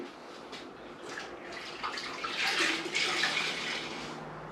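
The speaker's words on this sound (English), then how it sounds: "you take your sponge and you wring it out in the water just to where it's not dripping" A sponge squeezed out into a bucket of rinseless car wash water, liquid splashing and trickling back into the pail in a couple of close, soft gushes, with no one talking.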